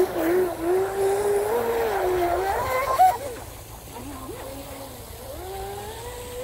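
A 19-inch RC tri hull boat with trim tabs and a 4000kV motor runs across water, its high electric whine rising and falling in pitch, loud and fairly close, then easing to a lower, more distant hum.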